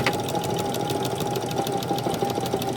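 Sewing machine backstitching through knit sweatshirt fabric, a steady rapid mechanical whir with a continuous motor hum and fast needle ticks, close and constant throughout.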